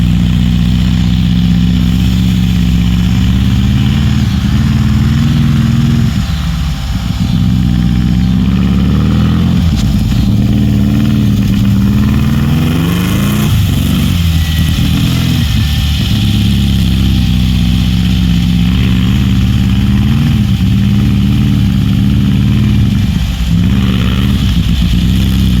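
A 1969 hot rod Baja Bug drives around a yard, its loud close air-cooled engine droning continuously throughout, rising and falling in pitch with repeated revs and throttle changes.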